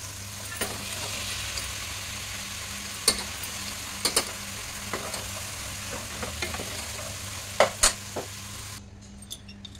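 Vegetables sizzle steadily as they are sautéed in a hot pan while a utensil scrapes and clacks against it now and then; the sizzle cuts off near the end.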